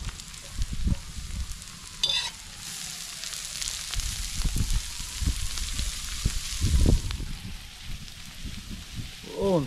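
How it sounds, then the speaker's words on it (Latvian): Onions and carrots sizzle and fry steadily in a pan, a continuous crackling hiss with occasional stirring clatters, close and fairly loud, with no talking. "Apcepam sīpolus. Liekam klāt arī burkānus."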